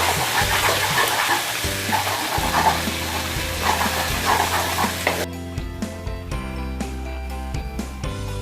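Ginger and garlic fry in a pan with a bright, dense sizzle and stirring scrapes for about five seconds. The sizzle then drops away, leaving quieter bubbling and occasional utensil taps.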